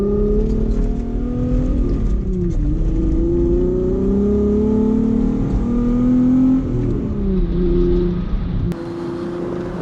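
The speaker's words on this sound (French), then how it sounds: "si vous avez jamais entendu de VR6, c'est vraiment un son unique qui se distingue" A Volkswagen Golf VR6 engine revs loudly and steadily from close range while driving, its pitch rising and falling through gear changes, with a brief drop near the end.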